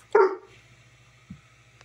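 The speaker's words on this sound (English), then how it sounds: "got the dog to start barking" A dog gives one sharp, close bark, followed a second later by a shorter, softer yip against a quiet hum.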